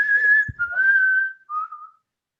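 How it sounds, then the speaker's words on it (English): Someone whistles a short, wavering tune of a few sustained notes, clear and fairly close, with a brief thump in the middle. "Somebody's got themselves unmuted and is whistling."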